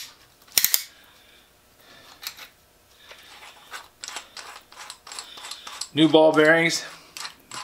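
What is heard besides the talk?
Pexto 8014 brace ratchet and chuck opening and closing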